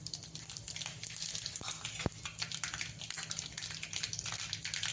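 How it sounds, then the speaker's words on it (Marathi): Mustard seeds and cumin seeds frying in hot oil for a village-style cowpea pod curry, a steady close sizzle with dense crackling pops and a couple of sharper spits. "तेल चांगलं गरम झालं की त्यात टाकणार आहे अर्धा चमचा मोहरी अर्धा चमचा जिरी"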